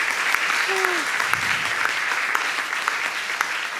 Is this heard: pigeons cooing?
no